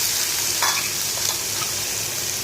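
Chopped pumpkin sautés in a hot pan with dried red chillies, giving a dense, constant sizzle with faint stirring scrapes over a short stretch and no voices.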